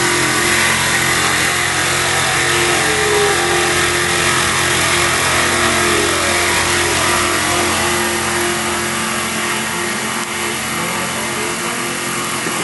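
A CNC machine runs through its final rotation, a loud continuous motor drone with a steady hum that eases slightly toward the end, with no talking.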